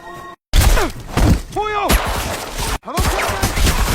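Gunfire in a film scene, an elite squad fighting enemies in a cave: sharp loud shots and thuds mixed with shattering impacts, voices crying out between bursts, with brief dropouts of silence.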